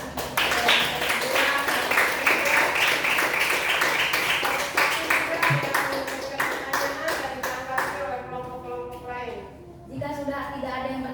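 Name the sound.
audience applause after a group presentation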